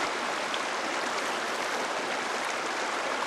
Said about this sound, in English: I'm going to put this bucket back in the water.